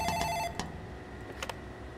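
A telephone rings in the dystopian video game Booth, a bright electronic trill that sounds in two quick bursts over a steady, low background tone.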